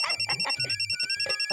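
A phone ringtone chirps in a rapid repeating electronic pattern, loud and close, for a brief moment.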